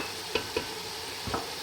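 Mutton chaanp karahi masala frying in a pan while being stirred, giving a low steady sizzle broken by a few sharp scrapes of the spoon, close and fairly quiet.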